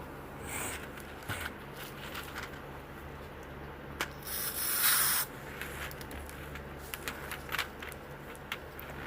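A brief hissing spray burst of mold release into a resin mold midway, surrounded by scattered rubbing, scraping and clicking handling noises at close range.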